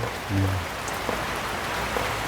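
Rain falls steadily outdoors, a soft even patter and hiss throughout, with a brief low hum early on and a few faint drops standing out.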